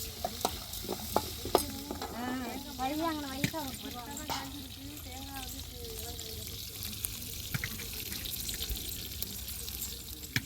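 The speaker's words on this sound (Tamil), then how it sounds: "வெங்காயம் பச்சை மிளகாயெல்லாம் நல்லா வதங்கிடுச்சு" Onions and green chillies sauté in a pan during village cooking for a communal food offering, a soft, faint sizzle with occasional stirring clinks, while a voice briefly speaks over it early on.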